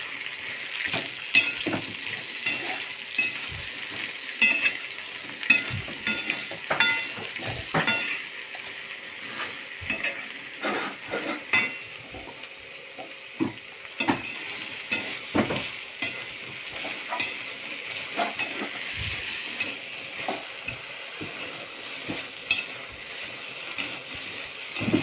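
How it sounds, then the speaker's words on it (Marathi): Okra frying in a pan, a steady soft sizzle under repeated scraping and clinking strokes of a spatula stirring, irregular and close throughout. "व्यवस्थित अशी फ्राय करून घेऊ."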